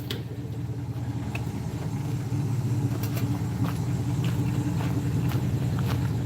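A 348 Hemi, the 5.7-liter baby Hemi, burbles at idle with a steady, deep rumble, close and continuous, without any clear rev during this stretch.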